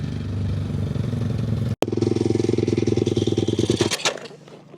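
A pit bike engine being ridden gives a loud, close, rough motorcycle rumble that cuts out for an instant, then picks back up with a rattling, pulsing rev before dying away near the end.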